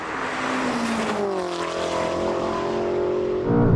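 A Ferrari and a tuned 1000-horsepower BMW M5 launch side by side in a drag race, engines roaring loud and close with rising, sweeping revs as they accelerate away together, no speech over the din.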